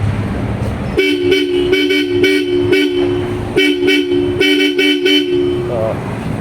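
Bosch Europa car horns installed on a Mazda BT50 pickup honk in a series of loud, close blasts, some short and some held, with a voice speaking between them.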